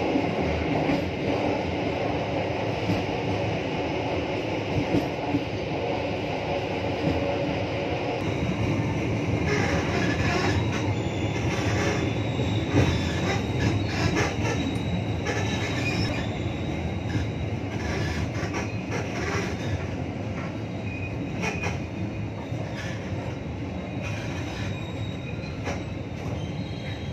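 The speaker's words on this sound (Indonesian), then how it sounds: "Oke, kereta api Tawangalun" The Tawang Alun passenger train in Indonesia rolls along the rails, heard from on board as a loud, continuous rumble with rhythmic wheel clatter and occasional squeals that lasts throughout.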